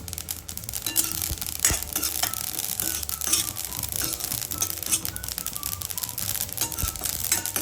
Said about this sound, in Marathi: आता हे तीळ भाजून घेऊया।